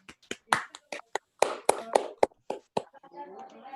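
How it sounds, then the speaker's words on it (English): Sparse applause at an industrial engineering conference for paper number 26, a handful of separate sharp claps from few people, close and irregular, fading into faint murmur. "Give applause to the paper number 26."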